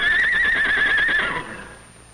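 A horse whinnies loudly and close, one long wavering neigh trailing off, from one of two gentle riding horses kept for children to ride in the foothills.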